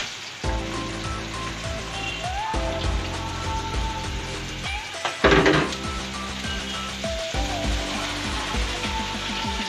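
Beetroot stirred by hand in a cooking pan over fried onion, with repeated scraping and clattering strokes against the pan under a steady sizzle, loud and close, with a sharper burst of clatter midway.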